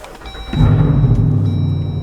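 A Jeep Wrangler 392 V8 starts up, with a faint electrical whine giving way after about half a second to a loud, deep exhaust rumble that settles into a steady throb.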